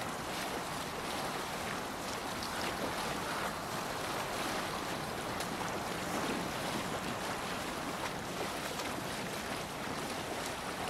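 Sailing ship gliding over Norwegian fjord water in Assassin's Creed Valhalla, a continuous broad rush of wind and washing waves with no distinct events, steady and moderately loud.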